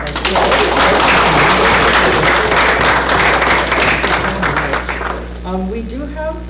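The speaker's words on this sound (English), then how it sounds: "let's give her another round of applause" Loud, dense applause from a large audience for about five seconds, then fading out as a voice begins speaking.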